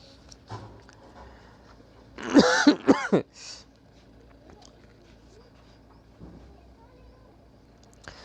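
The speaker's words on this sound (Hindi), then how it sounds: "थोड़ा बीच में खांसी आ गई" Amid a quiet room, a close, loud fit of several harsh coughs and throat clearing erupts in the middle, then fades back to near silence.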